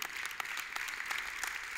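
A church congregation claps during a temple service, a short burst of brisk, dense applause with sharp individual claps standing out, fairly close and without talk.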